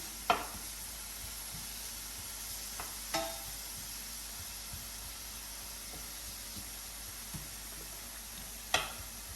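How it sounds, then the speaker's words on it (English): Carrots saute in a pan with a soft, steady sizzle, broken by a few faint utensil taps and clicks, heard alone and fairly quiet. "So we're going to saute these for an extra minute."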